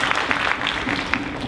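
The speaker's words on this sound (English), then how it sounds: "So a round of applause for Mr." Audience applause at a business summit session, a steady wash of clapping hands from a seated crowd, fairly loud and continuous throughout.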